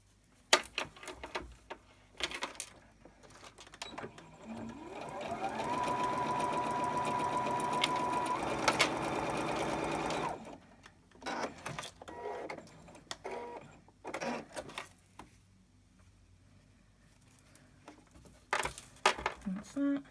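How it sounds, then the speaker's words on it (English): A sewing machine stitches quilt pieces for a rainbow quilt, running steadily for about five seconds before stopping. Short handling noises and a person talking come before and after the run. "Right, let's get cracking with the sewing."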